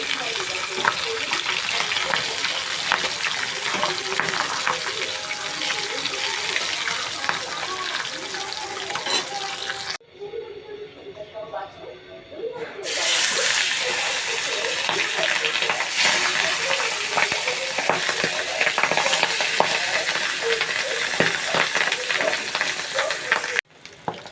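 Vegetables sizzle and are stirred in a hot pan as a loud, dense frying hiss. The hiss breaks off briefly midway, then resumes, with a voice talking now and then over the cooking.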